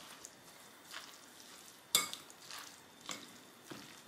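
A spinach filling is stirred in a pan, with faint, soft scrapes and one sharper clink of a spoon against the pan in a quiet kitchen.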